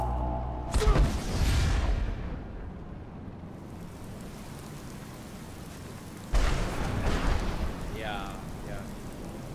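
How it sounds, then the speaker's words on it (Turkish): Storm Call shout in the heavily modded video game Skyrim, a dense wash of rain-like storm noise with loud rumbling surges near the start and again later, under a brief spoken word. "fırtına çağrısını açıp onu kullanayım"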